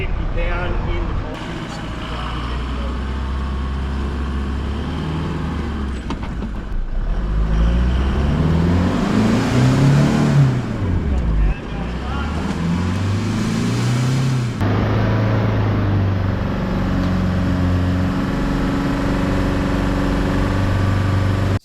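A 4x4 engine revs and strains as the car, deliberately buried deep in sand, climbs out on recovery tracks under its tyres. The engine pitch rises and falls over a long stretch, with people talking over it.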